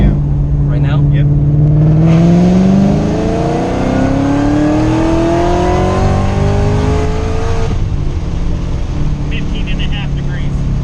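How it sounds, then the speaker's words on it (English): A Ford Mustang GT500 running E85 accelerates hard through a third gear pull, its engine note climbing steadily for several seconds before the throttle lifts, loud and close inside the car with people talking over it. "We're gonna do a third gear pull."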